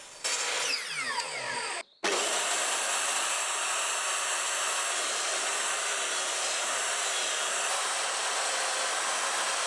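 A belt sander rounds the edges of an MDF piece, giving a loud, steady broadband grinding roar. A short whirring start is cut by a brief gap, then the sound runs unbroken to the end.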